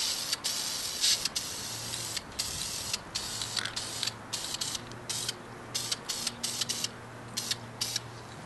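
Camouflage paint is sprayed from an aerosol can onto an HO scale model tree, a loud close hiss in repeated short bursts with brief pauses and faint clicking between them.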